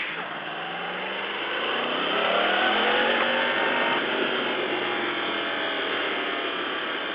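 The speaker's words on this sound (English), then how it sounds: "The cross-plane engine is just a beast." A motorcycle's cross-plane engine drones steadily and rises in pitch as it revs, a continuous loud mechanical roar with no speech.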